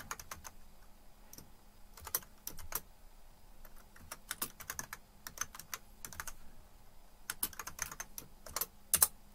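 Computer keyboard keys being pressed for a Ctrl+K shortcut while inserting a link in OneNote: quiet, irregular bursts of crisp key clicks, some in quick clusters, alone with no talking.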